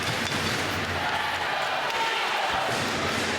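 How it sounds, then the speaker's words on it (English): A hockey arena crowd at the start of Game 2 of a women's professional semi-final in Toronto, a steady, dense roar of cheering voices filling the space at even loudness throughout. "The crowd already into it."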